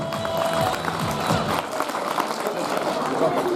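A crowd claps at a school annual function, a steady mid-level patter of many hands lasting several seconds with a voice speaking over it.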